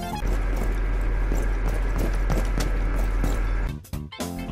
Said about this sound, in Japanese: まずは足音から。